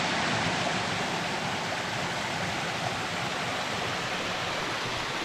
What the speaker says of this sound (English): it's absolutely mad to see the journey that waterfall's come from the top of that cliff